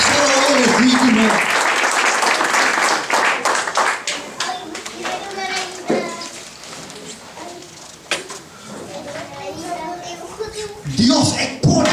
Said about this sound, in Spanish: Démosle un aplauso porque Él merece toda gloria, toda honra, toda alabanza.